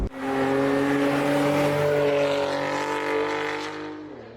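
A 625 wheel-horsepower Cadillac ATS-V on a race track accelerates out of a right-hand flick, its engine roaring loud and steady with a rising tone before easing off at the end.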